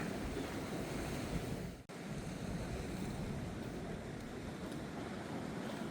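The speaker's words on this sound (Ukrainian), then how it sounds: "сильний вітер" Strong wind roars and buffets against the microphone in a constant rush beside the sea at dawn in Fontanka, with surf washing in underneath and no one talking.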